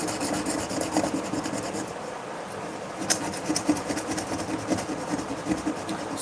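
Steady hand sanding of an axe, a dry rasping rub repeating in close, even strokes with no talk over it.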